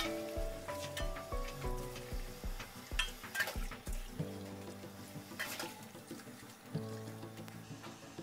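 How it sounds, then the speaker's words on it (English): Boiling water, about 2 liters, is poured over green lentils cooking in a pot, giving a hissing, sizzling wash with clinks of pot and utensil, under steady background music. "Add 2 liters of boiling water on average."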